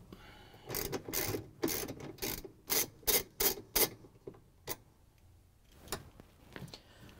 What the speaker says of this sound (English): we're just going to use the extension with the ratchet and 3 in socket again. Take out the bolt